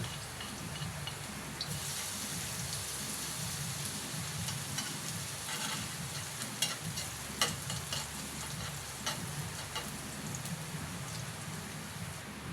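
Garlic sautés in a pan for tinola, a steady crackling sizzle like light rain on a surface, with a few clicks and taps of a utensil toward the end.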